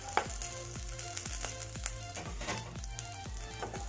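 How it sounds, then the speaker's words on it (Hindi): Large onions fry and sizzle in oil in a pan, a soft, fairly quiet crackle with frequent popping spits at irregular intervals and no talk. "अब हम इसे बड़े साइज वाले प्याज को हम फ्राई कर लेंगे।"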